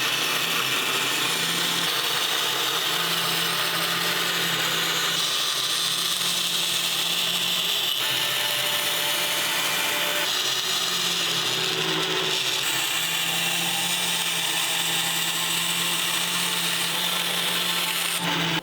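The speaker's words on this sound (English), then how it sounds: "I'm going to cut this at the bandsaw." A bandsaw cuts a taper along a guitar fingerboard in a luthier's workshop, with a steady loud motor hum and continuous blade whine running for nearly twenty seconds and slight changes in tone as the cut progresses.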